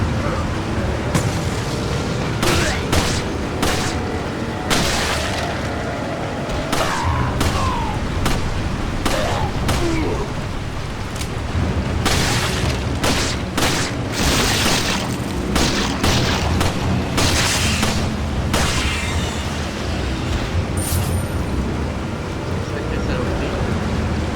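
Gunfire and explosions in Resident Evil 4 come as loud booming shots and blasts over a constant dense game soundscape, with a voice talking over the action.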